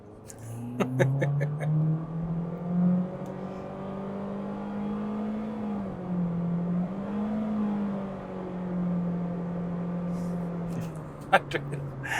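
A 2026 Honda HR-V's 2-liter engine drones steadily as the car accelerates toward highway speed, its pitch climbing, dipping at a gear change, then rising again, heard from inside the cabin.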